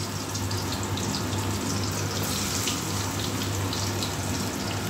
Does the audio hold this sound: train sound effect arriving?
no